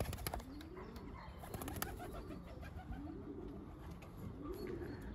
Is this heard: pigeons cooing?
yes